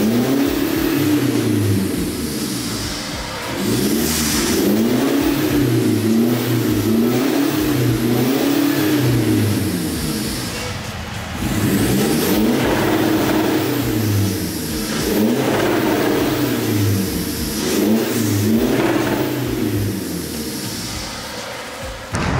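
Mitsubishi Strada engine revving hard during a tune test after a performance remap, loud and close, climbing and falling in repeated pulls over a rough idle, with no talking.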